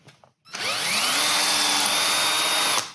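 A power drill in drill mode spins up after a short click and runs steadily at high speed for about two seconds, loud and close, then stops abruptly.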